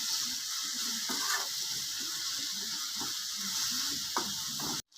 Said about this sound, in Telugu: అలా వెల్లిపాయ పేస్ట్ని ఫ్రై చేయాలి